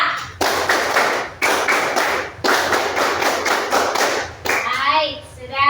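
A school class of seventh graders performs scout-style rhythmic clapping, tepuk pramuka, in unison: several bursts of fast, patterned hand claps with short gaps between them, loud and close in a classroom. Brief voices follow at the end.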